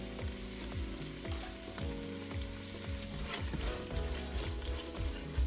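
Chicken pot pie soup stirred in a big pot, with a utensil scraping and clunking against the sides in an irregular rhythm over a steady bubbling sizzle, close by with no talking.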